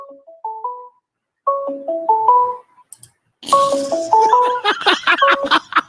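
A melodic phone ringtone plays its tune twice in clear, evenly stepped tones, the second time with loud clattering noise and a voice over it.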